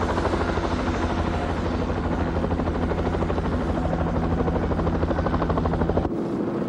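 A helicopter flying with steady, rapid rotor chop, loud and continuous for several seconds before cutting off abruptly, with no talking over it.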